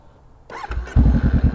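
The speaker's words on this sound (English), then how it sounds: "The bike will start right up." A motorcycle engine cranks briefly and then catches, settling into a loud, close, throbbing idle with a quick pulsing rhythm.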